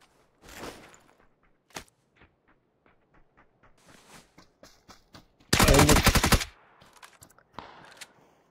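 Rapid bursts of gunfire strike a player's vehicle in PUBG: Battlegrounds, with scattered single shots and then a loud, dense burst of impacts lasting about a second, followed by a few lighter hits.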